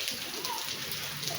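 Heavy rain falling with some wind on a village yard, a steady dense hiss of drops holding evenly through the whole short stretch, fairly close and without a break.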